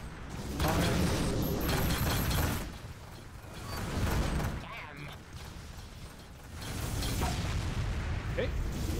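Missiles launch and detonate during a space dogfight in the game Rebel Galaxy Outlaw, giving loud rumbling booms and mechanical clatter in surging waves, with brief lulls between blasts.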